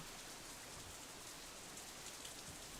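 Steady rain falling in the video game Katawa Shoujo, a soft continuous hiss of drops on surfaces, faint and even throughout with no voices.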